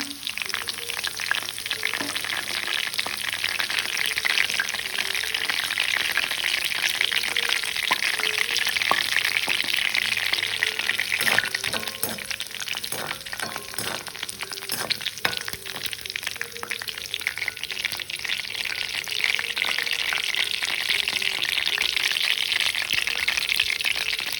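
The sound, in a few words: curry leaves and pandan leaves frying in a pan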